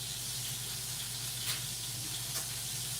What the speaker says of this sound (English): I hope y'all can hear me over the frying.